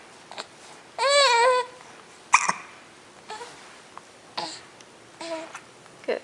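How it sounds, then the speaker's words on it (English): A baby girl hiccups several times, short sharp catches spread unevenly through the clip, between bursts of babbling coos, close to the microphone indoors. "Got the hiccups."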